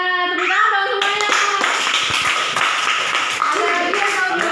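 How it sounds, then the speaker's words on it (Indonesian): Students clapping in a classroom, a loud burst of quick applause from a small group, mixed with children's voices and a sung or called-out tone before and after. "Tepuk tangan dong semuanya."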